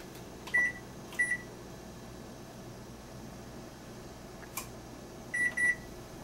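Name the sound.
oven timer being set and beeping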